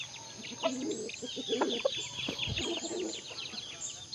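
Aseel chickens cluck and chatter in low, irregular bursts nearby, with a steady high hiss of ambient noise behind them.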